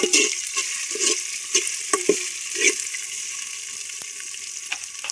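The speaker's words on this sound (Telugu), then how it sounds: "అల్లం వెల్లిగడ్డ వేసుకున్నాక పచ్చివాసన పోయేదాకా మంచిగా కలుపుకోవాలి." Ginger-garlic paste sizzles in a pan for a chicken curry cooked outdoors under a tamarind tree. A spoon scrapes through it in repeated stirring strokes over a steady fry hiss.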